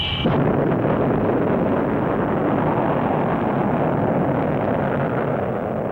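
An X-15 test aircraft explodes and burns, a sustained loud roaring rumble of fire and blast that holds steady throughout without any talk.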